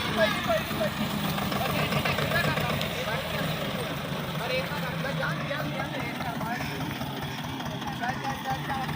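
A tractor engine idles with a steady, low rumbling drone throughout, and voices talk over it.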